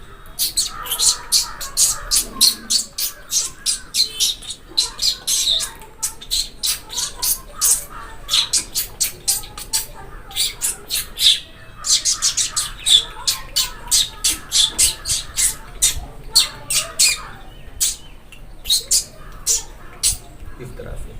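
A voice imitating small birds chattering: rapid, high squeaky chirps in quick bursts, repeated for a long stretch with short pauses.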